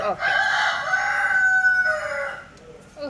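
A rooster crows loudly in one long, drawn-out call, with black Kadaknath hens clucking faintly around it; no talking.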